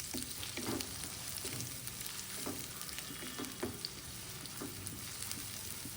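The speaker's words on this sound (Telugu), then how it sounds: "ఈ ఆనియన్స్ మొత్తం గోల్డెన్ బ్రౌన్ కలర్ వచ్చేంత వరకు, పచ్చివాసన పోయేంత వరకు బాగా వేయించుకోవాలి" Onions sizzle steadily in hot oil in a pan while being fried golden brown, a continuous close frying hiss with occasional faint stirring clicks and no talking.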